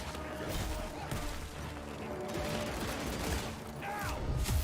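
Pistol gunfire and combat clatter in the video game Evil West, dense and continuous with repeated sharp shots layered over a busy game soundtrack.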